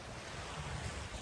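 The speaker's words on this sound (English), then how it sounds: "Allow yourself to take notice of the sounds of the waves here." Ocean waves washing in as a steady broadband rush, fairly soft and continuous with a low rumble underneath and no voices.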